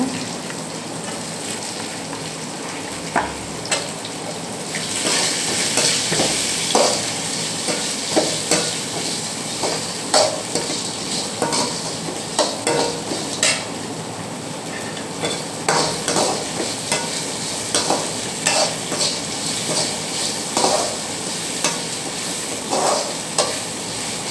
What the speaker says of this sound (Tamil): இது எல்லாத்தையுமே நல்லா வதக்கிக்கோங்க